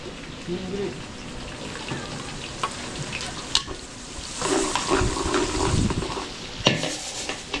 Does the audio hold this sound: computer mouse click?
no